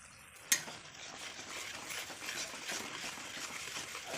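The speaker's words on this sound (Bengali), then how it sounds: "মশলাটা কষিয়ে নেবো" Spice paste of turmeric, coriander, cumin and chilli powder with salt sautéing in a pan for fish jhol, a sharp clatter at the start then a steady low sizzle with scraping and stirring throughout.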